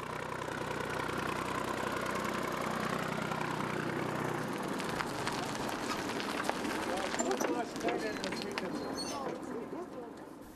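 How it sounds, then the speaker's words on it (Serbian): A tractor pulling wood rumbles along at medium distance with a steady low engine drone, while a voice talks over it throughout. "primetili traktor koji vuče drvo"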